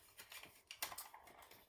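Someone taps quickly and faintly on a ZX Spectrum computer keyboard, a rapid cluster of soft clicks with no talk.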